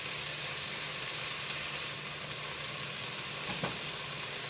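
A sweet and sour stir-fry sizzles steadily in a pan, a constant soft hiss of frying with a faint low hum underneath and one brief clatter near the end, with no voices.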